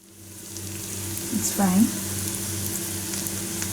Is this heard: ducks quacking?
no